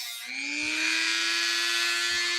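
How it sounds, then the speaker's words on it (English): A steady high-pitched electric whine of a small power sander running continuously at close range on a Jeep 4.0 engine, with a constant motor tone and no pauses. "I'm sanding here. This is a new"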